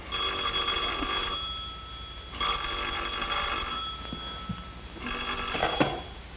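An old telephone bell rings in a 1939 film, three long shrill bursts separated by short pauses, loud and close, with faint background sounds between rings.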